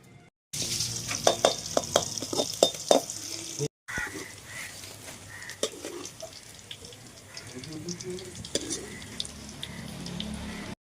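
Green chilies fry in oil in a pan while tandoori chicken is prepared, giving a steady close sizzle broken by bursts of sharp spatula scrapes and clatter, with a brief pause partway through.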